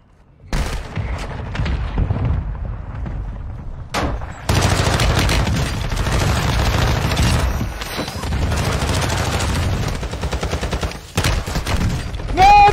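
Decoy grenades in a video game imitating gunfire, loud rapid bursts of simulated shots and booms after a brief quiet start, continuing in dense volleys with short pauses.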